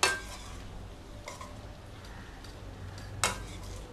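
Spinach stem stir-fry (thandu keerai poriyal) with coconut is stirred in a pan, giving faint scraping with a few soft metallic clinks of the utensil against the pan and no voices.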